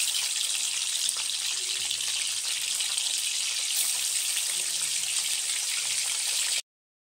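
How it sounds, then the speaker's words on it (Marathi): Paneer frying in hot oil in a kadai makes a constant, dense crackling sizzle close by, steady for several seconds before cutting off into silence. "आता मी त्याच्यात टाकणार पनीर तळून घेणार थोडंसं लालसर।"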